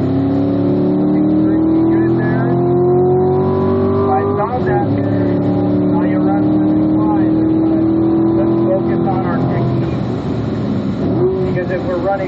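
A Corvette race car on a racetrack at a racing school, its engine roaring close and loud as it accelerates through rising gear pulls, with a brief shift dip midway and people talking over it.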